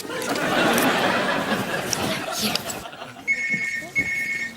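Loud laughter and chatter fade, then an electronic phone ringtone chirps twice in short bursts.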